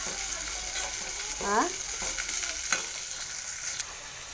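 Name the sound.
stirring dal and onions in a cooking pan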